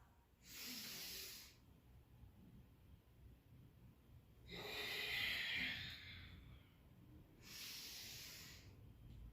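Deep, audible breaths during a vinyasa yoga session: three long airy exhales spaced a few seconds apart, close and alone over a quiet room.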